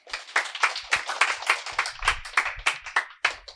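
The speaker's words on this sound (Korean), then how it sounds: "박수 좀 주십시오." An audience in a lecture hall claps for a few seconds, a fairly close, moderately loud burst of scattered handclaps with no voices over it.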